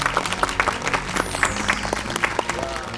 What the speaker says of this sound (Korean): 무사히 한국에 오신 여러분들에게 다시 한번 박수를